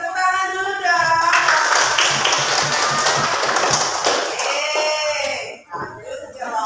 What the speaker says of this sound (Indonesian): sebelum kelompok kedua beri tepuk tangan dulu dong